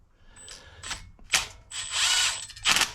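A ratchet clicks in several short bursts while the timing chain is tightened on a Jeep 3.6L Pentastar engine, with metallic gear-like ratcheting, fairly close and loud, no talking.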